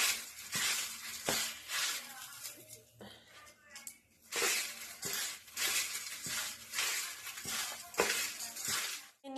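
Fried flattened rice being mixed by hand with a little oil, heard as repeated crunchy, rustling bursts at an uneven pace, close by, with brief pauses between the strokes.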